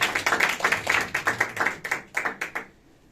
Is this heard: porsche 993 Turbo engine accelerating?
no